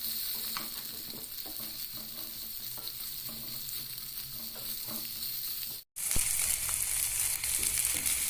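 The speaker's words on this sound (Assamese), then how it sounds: "এইখিনি মই এতিয়া ফ্ৰাই কৰি ল'ম অকণমান।" Garlic and ginger sizzle in a hot pan for a paneer dish, a steady close frying hiss with scraping stirs and clicks, broken by a brief silent cut before the sizzle returns louder.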